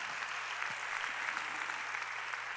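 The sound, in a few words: church congregation applause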